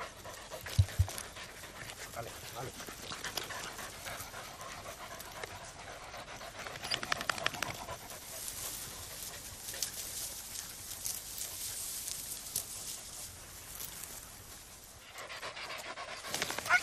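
A podenco hunting dog pants rapidly and steadily for a long stretch, close and fairly loud, over outdoor rustling and movement noise during a rabbit hunt in Villahermosa, Ciudad Real, with no talking.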